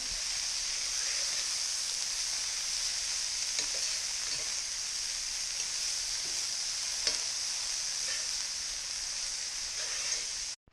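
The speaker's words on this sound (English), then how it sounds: "I will start with the cabbage and the peas" Cabbage and peas stir-fry for shrimp fried rice in a steady, bright, continuous sizzle with occasional faint stirring clicks, close and even throughout before cutting off at the end.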